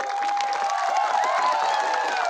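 A crowd at a political mass gathering claps steadily, a continuous dense patter of applause with some cheering, loud and close throughout.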